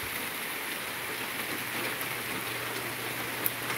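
Steady rain falls continuously, a dense even patter with no voices, holding at a constant moderate level throughout.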